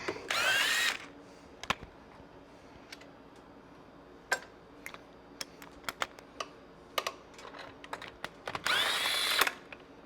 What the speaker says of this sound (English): now that they're all loose, we can just put a gun on it, get them all out.